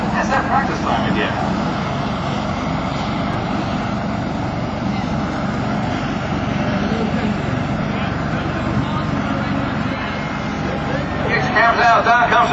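An L-29 Delphin jet flies a pass at an airshow, giving a steady broad engine roar that holds loud throughout, with faint speech underneath.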